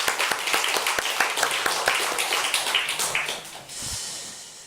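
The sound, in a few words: congregation applause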